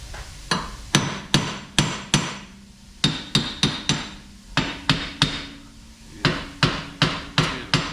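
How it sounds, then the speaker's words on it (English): Sharp metallic hammer strikes on a Lexus GS 350 wheel hub, knocking it loose, in quick clusters of two to four blows, repeated about twenty times, loud and close with short pauses between groups. "So we're going to hit it with a hammer."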